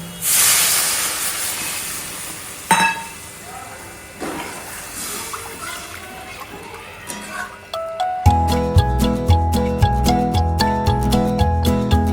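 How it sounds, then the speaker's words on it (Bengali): Water added to fried, sizzling curry in a pan sets off a loud hissing burst that gradually fades and then sputters on, before music comes in over the fading sizzle. "হয়ে গেছে কষানো এবার জল দিয়ে দেবো"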